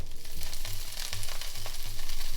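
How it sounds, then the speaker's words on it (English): Weenies (hot dogs) sizzling in a hot frying pan, a steady close crackle and hiss with a pulsing low hum beneath, no one speaking. "Weenies in the pan."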